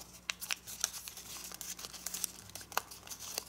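Paper is creased and folded into an origami dragon, close crinkling and crisp rustling bursts in quick irregular succession, quiet and with no voice.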